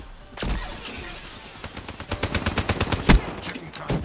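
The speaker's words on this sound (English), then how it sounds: "I love the ICR, but this gun packs more of a punch." Rapid bursts of ICR rifle fire from Black Ops 3 multiplayer, a fast string of sharp gunshots that grows denser toward the end, with one louder crack near the close and no talking.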